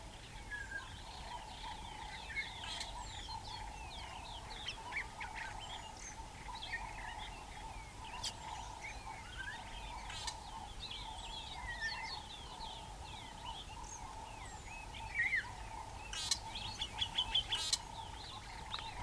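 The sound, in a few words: birds in the African bush at dawn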